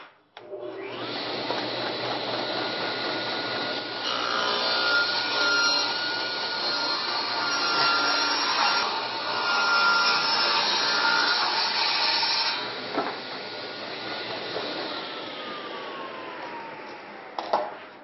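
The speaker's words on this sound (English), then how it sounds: "we've taken the blade guard off of the table saw so that you can see the cut more clearly" A table saw with its blade guard removed makes a 15-degree bevel cut through wood for a window box. Its steady, loud whining buzz runs for about fifteen seconds before spinning down.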